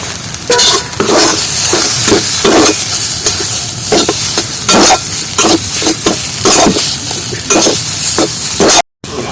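Mashed potato being stir-fried in a pan with cumin, coriander and dried chilli powder for tomato chops: steady sizzle with repeated scraping stirs and occasional clinks of a utensil, close and continuous, no talking.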